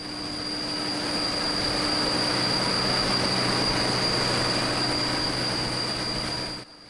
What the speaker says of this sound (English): I was warned the machines were very loud.